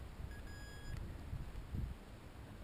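A metal detector sounds a strong signal while hunting for buried coins in Pomerania. It gives a short run of steady high tones near the start, over soft outdoor wind and ground noise with no talking.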